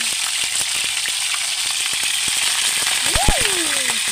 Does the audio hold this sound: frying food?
yes